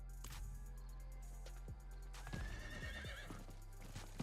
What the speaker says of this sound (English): this time we'll ride our trusty horse named Horse